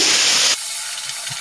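Onion paste hits hot oil left from frying rui fish and gives a loud, hissing sizzle that cuts off abruptly into a much quieter, low simmering crackle.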